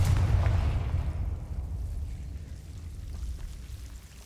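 A Confringo blasting spell explodes in Hogwarts Legacy, a heavy deep boom at the start that rumbles and slowly fades away over several seconds.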